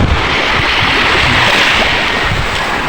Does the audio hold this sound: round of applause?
no